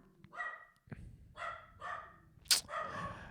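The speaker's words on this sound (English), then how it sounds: "It seems like, honestly, Terry only barks when I'm doing the podcast" Close indoor dog barks several times in quick succession, with short sharp woofs separated by brief pauses and one sudden loud click or knock between them.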